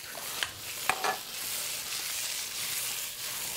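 Spring onions and pepper flakes in oil are tossed in a pan. A few sharp clatters of tossing sit over a steady, close sizzle that carries on alone afterward.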